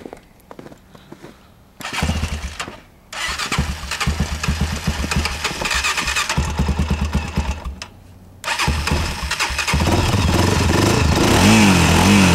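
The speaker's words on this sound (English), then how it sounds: "So when it starts, give her some gas and go." A Honda motorcycle engine starts on a snowy course and runs loud and close, rising into sustained revving with short dips between bursts of throttle.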